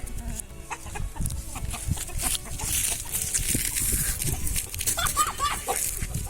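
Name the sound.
chickens clucking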